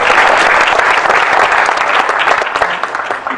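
Loud, close applause from the audience at a Passaic County commissioners' meeting as a county official is introduced, dense clapping that holds steady then begins to thin toward the end.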